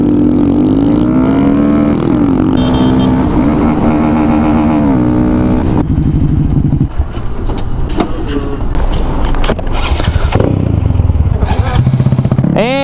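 A Honda Grom motorcycle fitted with a 170 big bore kit rides off-road, its small engine buzzing and revving in rising and falling pitches, loud and close, with some clattering.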